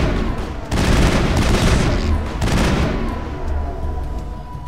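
Gunfire in the video game Mass Effect: loud, dense bursts of rapid shots in two main volleys with rumbling booms between, close and continuous, with no talking.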